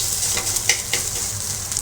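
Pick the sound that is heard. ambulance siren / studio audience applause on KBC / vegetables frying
vegetables frying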